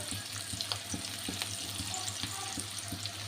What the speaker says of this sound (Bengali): দিয়ে দিব পেঁয়াজ কুচি এক কাপ দিয়ে দিব কিছু কাঁচামরিচ কাটা